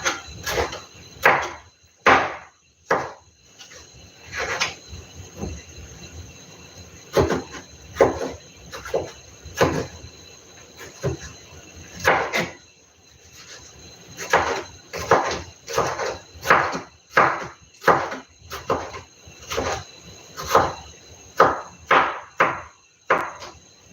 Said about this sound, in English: I'm now chopping my tomatoes.